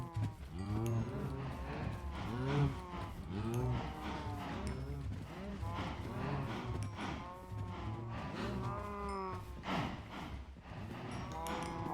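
Minecraft cows moo over and over in overlapping, drawn-out calls, a steady herd of game animals lowing without pause.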